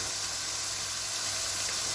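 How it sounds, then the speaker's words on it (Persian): Tomato paste frying in a pan for grape-leaf dolmeh, giving a steady, close sizzle with a fine, even hiss that holds without break throughout. "رب هم قشنگ ریختیم کاملا سرخ بشه"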